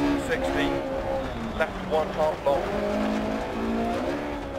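A race car engine holds high revs with rising and falling pitch, mixed with brief tire squeals, while someone talks over it throughout.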